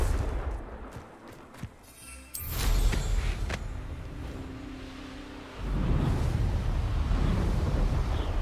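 Booming fire-spell blasts from the Confringo curse in Hogwarts Legacy: a sudden heavy explosion followed by a rumbling roar, sharp cracks before it, and a second surge of blast noise toward the end, loud and close.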